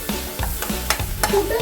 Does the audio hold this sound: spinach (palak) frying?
yes